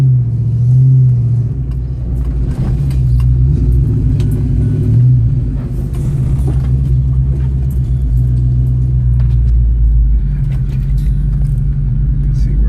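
A 1989 Ford Mustang LX convertible engine warms up with a steady low rumble at close range, holding an even idle with slight swells throughout.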